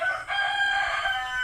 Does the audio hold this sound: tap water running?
no